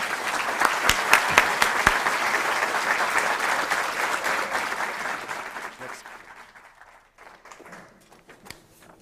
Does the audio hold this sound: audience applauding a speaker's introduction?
yes